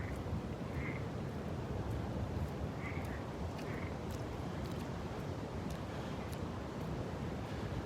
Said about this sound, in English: You hear all the frogs croaking.